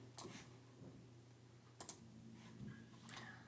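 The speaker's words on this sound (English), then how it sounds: "if I can type today" Typing on a computer keyboard, quiet and close, with three short bursts of sharp clicks spread across a faint steady hum.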